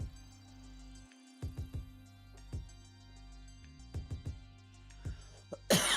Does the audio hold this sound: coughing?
yes